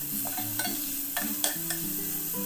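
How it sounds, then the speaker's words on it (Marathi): Tomatoes with turmeric, coriander powder, red chilli powder and garam masala being stirred and sautéed in a pan for daliya khichdi, giving a steady soft sizzle with a few light scrapes and clinks of the spoon. "मसाले घालून चांगलं परतून घेतलं आहे"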